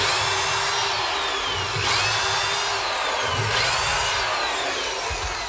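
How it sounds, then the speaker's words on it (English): A power drill bores dowel holes into wood with a doweling jig, its steady high whine continuous and close, rising and easing slightly as the bit cuts, with no voices. "After drilling the first hole, I put in a dowel, slip the jig on,"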